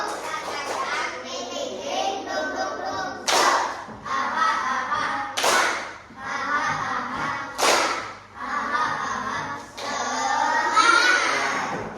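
Standing schoolchildren perform a rhythmic clapping cheer, repeated patterns of claps and chanted voices broken by several sharp, loud slaps, with a teacher's voice heard between the rounds.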